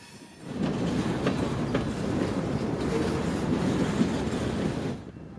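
A train rolls past a switch and back onto the main line before departure, a steady broadband rumble of wheels and cars holding for about five seconds with faint clicks over the top, fairly close and without voices.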